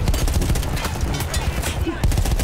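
Rapid gunfire in the World War I shooter game Battlefield 1, set in an Alpine mountain battle, rattling loud and continuous with bursts and shots throughout, over a dense battlefield din.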